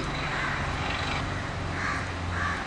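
Crows caw outdoors in a village setting, several harsh calls spaced apart over a constant broad background hiss, with no voices.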